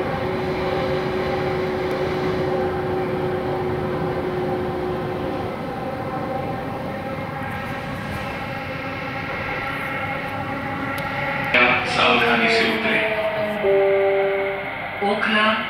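Steady rumble of a Delhi Metro train in motion, with tonal whining from the motors and brief talk over the running noise, heard from inside the carriage.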